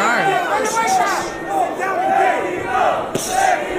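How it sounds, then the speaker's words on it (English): A boxing crowd at a Golden Boy fight night between John Ramirez and Luis Padilla, with a broad roar of voices swelling and dipping for several seconds, drawn-out jeering tones rising above the steady hubbub. "There's some boos in the crowd? Yes, they are."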